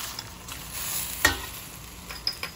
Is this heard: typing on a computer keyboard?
no